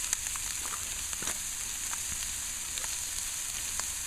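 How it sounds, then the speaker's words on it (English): Sausage frying on a bushcraft stand outdoors gives a steady, quiet sizzle with faint crackles and pops scattered throughout, no one talking. "what I'm gonna do now is I'm gonna cook up that sausage"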